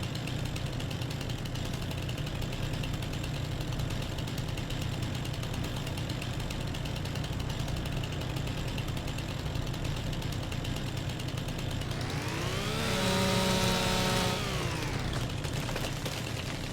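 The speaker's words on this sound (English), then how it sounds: "now let's get a chainsaw out" A chainsaw in Farming Simulator 25 cutting trees, heard as a steady droning engine bed for most of the clip, then a rising and falling whine near the end as the saw revs through a cut.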